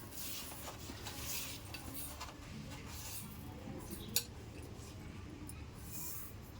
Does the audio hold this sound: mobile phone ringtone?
no